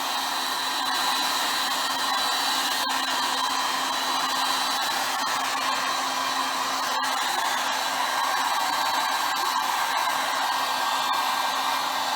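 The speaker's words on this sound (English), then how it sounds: "I'm using the heat gun just to kind of open those up" A heat gun blows steadily across a Stone Coat epoxy countertop poured to look like fantasy brown marble, making a constant close airy roar with no talk.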